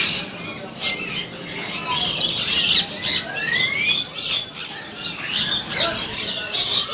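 Exotic birds such as lories squawk in a bird shop at a market, with many harsh, overlapping calls and whistles in a busy, continuous chorus at close range.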